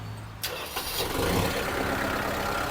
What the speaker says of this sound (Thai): อะเครื่องสตาร์ทติดง่ายนะครับ เสียงเครื่องปกตินะครับ